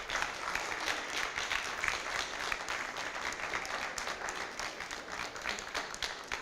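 In a French-speaking hall, the brothers applaud the sisters with steady, dense clapping that is loud and sustained throughout, with faint crowd murmur underneath.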